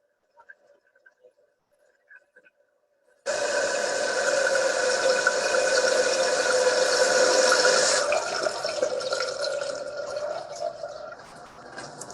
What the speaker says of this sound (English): you'll want to empty a little water out of the tank to allow the tank to fill back up